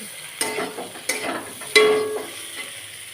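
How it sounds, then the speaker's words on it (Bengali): Water poured into sautéed mixed vegetables in a hot pan, three sharp splashing bursts of sizzle close by, each fading into a softer hiss. "এবার আমি দিয়ে দিচ্ছি জল।"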